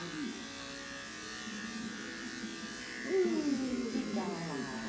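Electric clippers buzz steadily while shaving a wet, badly matted rescue dog, a low continuous hum close by that rises in pitch and strain partway through as they work, with a person speaking over it.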